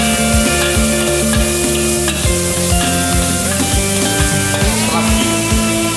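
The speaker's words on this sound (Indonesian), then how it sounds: "Setelah kita masukkan buncis, kita aduk sampai rata." Green beans stir-fried Sichuan style in a wok sizzle loudly as a spatula scrapes and clanks against the pan in quick repeated strokes, with no one talking.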